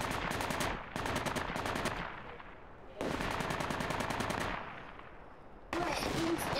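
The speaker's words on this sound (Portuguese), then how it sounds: "eu tô dando tiro de ponto 50, o cara não morre" Rapid bursts of .50 caliber machine gun fire in the Project Reality 2 video game, loud repeated volleys separated by brief pauses.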